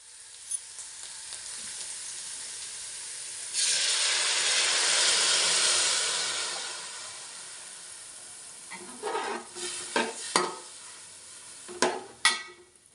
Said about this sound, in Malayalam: ഇനി ശർക്കര പാനിയിൽ കിടന്നിട്ട് മുളകും സവാളയൊക്കെ ഒന്ന് കുക്കായി വരട്ടെ